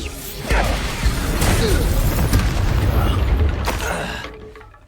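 Explosive spells in Hogwarts Legacy go off as loud booms and crashes with whooshing bursts that overlap into a dense, continuous barrage before it fades out at the end.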